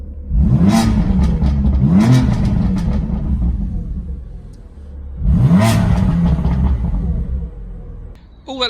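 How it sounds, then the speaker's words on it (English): A BMW M3 sports car engine revs hard in repeated bursts, its throaty exhaust rising and falling with rumbling, popping tone between pulls; close and loud. "it's a fantastic sounding exhaust"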